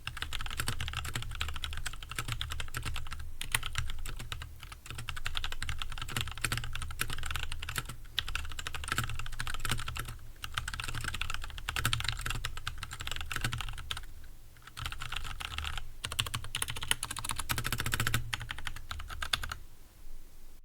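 Steady, fast typing on a mechanical keyboard fitted with Durock T1 switches, close and moderately quiet, with dense overlapping key clacks continuing for about twenty seconds.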